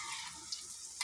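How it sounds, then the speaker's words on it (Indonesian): Chillies sizzle and crackle in hot oil in a pan, a steady close hiss with two brief sharp pops. "Minyaknya sudah panas, cabenya kita masukkan."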